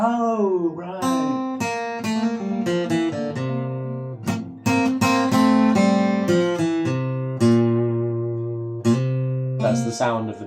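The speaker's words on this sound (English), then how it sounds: "That's the sound of the Mixolydian mode." A guitar plays a Mixolydian mode scale starting from C, plucking single notes up and down in a steady sequence of distinct, close, clear tones with no one speaking over it.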